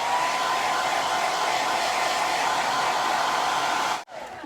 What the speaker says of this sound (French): petit coup de sèche-cheveux.